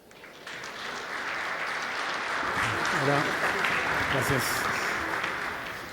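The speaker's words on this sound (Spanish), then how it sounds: "Lo recibimos con un fuerte aplauso." An audience at a talk on international logistics claps to welcome a speaker, a warm, swelling round of applause lasting a few seconds, with the speaker briefly greeting and thanking them over it.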